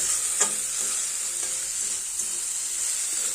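Cut potatoes and chopped garlic are stirred in a sizzling pan, a continuous close fry with soft scraping of a spoon against the pan and an occasional clink, and no voices.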